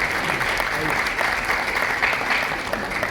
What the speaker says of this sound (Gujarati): જોરદાર તાળીઓથી એનું સ્વાગત કરી અભિવાદન